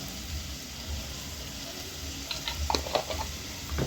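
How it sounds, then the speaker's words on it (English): Black pepper, paprika, salt and curry powder are stirred into a quietly sizzling pan. A soft fry carries through the first half, then scraping and clinking stirs build near the end. "I stir it in or"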